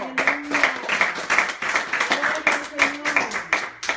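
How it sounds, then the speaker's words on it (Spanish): A church congregation clapping for the Lord, steady rhythmic claps with voices calling out over them throughout. "Denle un fuerte aplauso al Señor."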